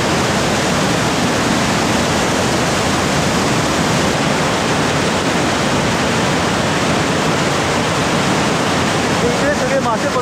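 Floodwater released from a dam rushes down a swollen river full of jumping fish, making a dense, unbroken roar that stays close and loud throughout.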